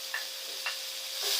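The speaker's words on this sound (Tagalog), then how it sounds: "Lutuin muna natin yung kamatis." Tomatoes frying in a pan give a steady, quiet sizzle, with three brief scraping stirs at even intervals, close and with no talk.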